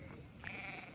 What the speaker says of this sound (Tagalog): Ganun ba yun yung tupa? Mag-mee?